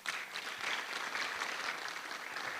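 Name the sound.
audience applauding in conference hall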